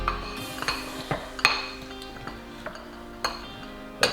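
Utensil clinking and scraping against a bowl while garlic powder and red pepper seasoning are mixed, irregular sharp taps close by, no speech.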